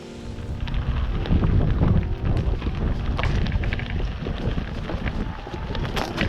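Strong wind gusting over open water on a rural Portugal farm visit, a loud steady roaring rush with buffeting against the microphone, no voices.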